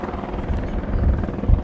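A WAH-64D Apache Longbow attack helicopter performs a flying display at an air show, its deep rotor thump and low rumble heavy and continuous, loud and fairly close.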